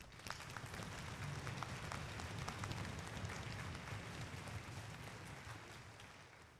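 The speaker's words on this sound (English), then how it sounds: "So please join me in giving all of them a round of applause." Audience at a middle school spring band concert applauding the teachers, a steady, dense wash of clapping from a large crowd that holds evenly throughout and tapers slightly at the end.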